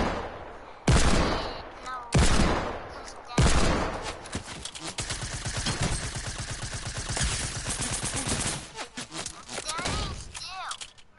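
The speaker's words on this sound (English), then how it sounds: "I know the SMG just sprays everywhere though" SMG fire in a video game: three loud single blasts at the start, then a long continuous spray of rapid automatic shots with a voice talking over it.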